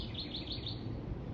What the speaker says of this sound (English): you hear the ducks and you hear the birds in the background, because I'm literally just sitting by the lake